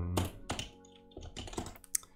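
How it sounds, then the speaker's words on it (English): A computer keyboard is typed on loudly late at night, a close cluster of sharp clacks and thunks in quick irregular bursts with no talk. "Your keyboard too loud, neighbors upset."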